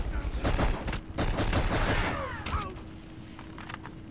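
Bursts of rapid automatic gunfire from an M16 rifle in the PS2 video game Black. Two loud, dense volleys come close together, then a few scattered shots fade out toward the end.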